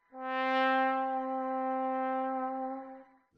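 Sample-modeled virtual trombone playing a single sustained note with its standard open sound, rich in harmonics, steady and alone for about three seconds before cutting off.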